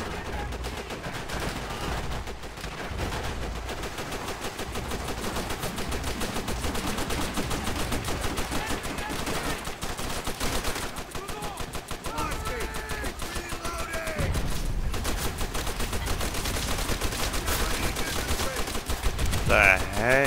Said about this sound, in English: I want suppressing fire on those enemies.